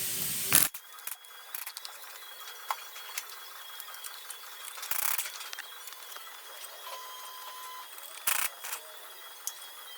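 A ratchet working loose 14 mm and 17 mm bolts on a Genesis car's transfer case, sparse light clicking with a few louder metallic bursts against a quiet background.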